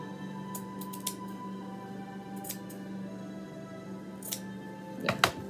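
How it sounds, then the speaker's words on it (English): Scissors snip through excess fabric on a Barbie-size retro dining room chair, several short, close crisp cuts spaced apart with a louder clatter near the end, no voices. "I need to cut that down"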